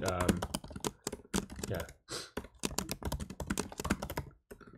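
Fast typing on a computer keyboard while solving a coding problem, a dense run of sharp close key clicks with brief pauses, over quiet talk.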